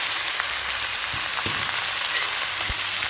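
Washed onion greens fry in a pan with a steady, close sizzle and crackle, broken by a few soft stirring knocks, with no voices.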